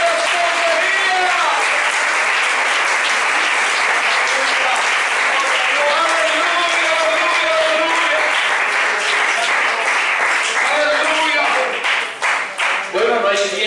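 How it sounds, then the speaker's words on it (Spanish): A church congregation applauds loudly and continuously during a Spanish-language sermon, a dense wash of clapping with some voices mixed in, easing off in the last seconds. "Un aplauso a este cordero, al cordero de la escogería."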